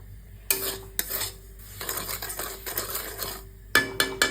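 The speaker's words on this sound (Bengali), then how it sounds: "কাঁচা সুজিটা একটু ভাজা ভাজা হবে, তারপর নামিয়ে নেব আবার।" Raw semolina (sooji) is stir-fried in a pan for upma, with a spoon scraping and knocking against the metal in bursts and short pauses between strokes, close up and alone.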